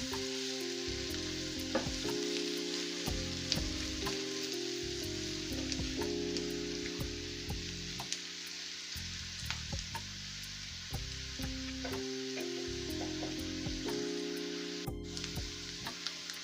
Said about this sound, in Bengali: আবারও আমি এগুলোকে নাড়াচাড়া দিয়ে নেব।